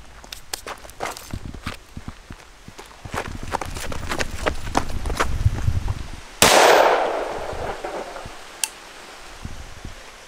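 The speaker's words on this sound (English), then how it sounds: "Nice day for some target practice" A single sharp, loud handgun shot rings out during outdoor target practice and decays with a short echo, preceded by scattered light clicks and footstep-like taps.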